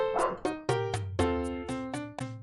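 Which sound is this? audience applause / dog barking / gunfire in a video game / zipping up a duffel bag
dog barking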